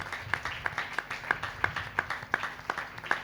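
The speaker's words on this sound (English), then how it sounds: "Please give a big round of applause for costume coordination, voice coordination." Scattered, sparse hand claps from a small audience at a devotional drama performance in Chennai, evenly spaced and fairly faint, a few people clapping in loose rhythm.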